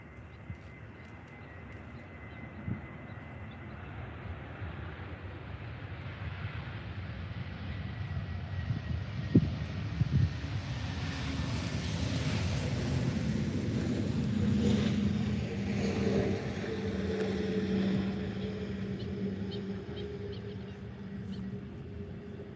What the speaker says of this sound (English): Ryanair 737 MAX landing now.